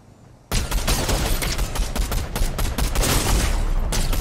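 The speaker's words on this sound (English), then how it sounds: "that shotgun's insane!" Shotgun fire in the Fortnite video game erupts suddenly after a brief quiet moment, then continues as a loud, dense run of rapid repeated blasts that fills the rest of the moment.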